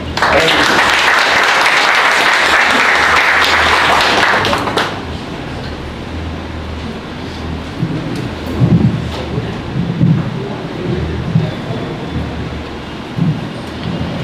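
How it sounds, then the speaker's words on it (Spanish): An audience at a Peruvian technology agenda presentation on anchoveta gives a loud burst of applause for about four seconds. It cuts off into a murmuring room with scattered bumps and low rumble. "Queremos recibirlo con un fuerte aplauso."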